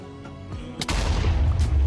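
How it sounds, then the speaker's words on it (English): Minecraft bed explosion, a sudden loud boom that bursts in partway through and leaves a heavy rumbling roar that carries on to the end, with no talking. "that's a big explosion"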